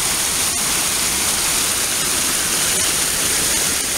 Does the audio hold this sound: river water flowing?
yes